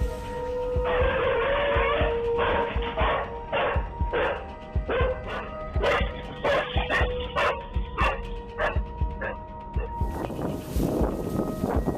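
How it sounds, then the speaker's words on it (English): Pit bull in a Chula Vista park confronting a coyote, a loud close series of rapid barks and yips in bursts with brief whimpers between them. "A man recorded a tense confrontation between a coyote and his pit bull at a park in Chula Vista."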